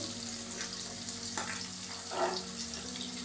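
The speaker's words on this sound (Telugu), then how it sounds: "మిర్చి వేసుకొని కలుపుకోవాలి." Chopped onion, green chilies, carrot and beans stirred in hot oil in an electric cooker for bagara rice, giving a steady close sizzle with a few soft scraping stirs and a brief louder splutter near the end.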